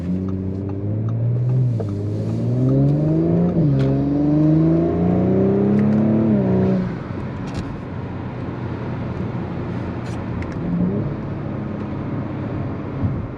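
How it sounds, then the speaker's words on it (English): Turbocharged car engine revving, rising in pitch twice as the turbo spools, then dropping to a lower rumbling idle with faint clicks, loud and close. "the turbo spools up"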